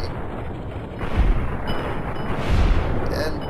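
In Fallout: New Vegas, gunfire is aimed at a Night Stalker: two heavy, booming shots land about a second and a half apart, over a rumbling, noisy game background with no voices.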